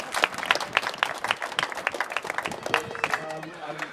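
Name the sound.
applause from the public audience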